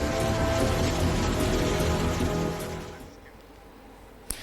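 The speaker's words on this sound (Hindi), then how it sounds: "देखिए बारिश जबरदस्त तरीके से हो रही है" Heavy monsoon rain pours down in a loud, dense, steady roar that eases somewhat after about three seconds, and a sharp knock sounds near the end. No one speaks.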